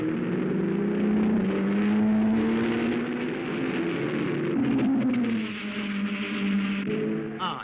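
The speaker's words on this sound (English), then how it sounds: "Number 4 gets his Jaguar onto the circuit" A 1957 Jaguar race car accelerates onto the Le Mans circuit just past the Mulsanne corner, its engine droning in rising and falling tones at moderate distance, steady and unbroken.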